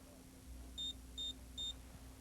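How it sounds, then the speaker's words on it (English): Three short, evenly spaced electronic beeps from an ADT Safewatch alarm keypad sounder, over a quiet hum, clean and high-pitched, with no talking. "Adjust beeps may be used to adjust the volume of the operating panel sounder"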